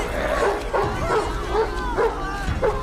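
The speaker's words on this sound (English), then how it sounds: "Barnabas realized that he's a dog and could just bark." A dog in a movie barks and yips repeatedly, about five short barks at a steady rhythm, mixed with whimpering over a background soundtrack.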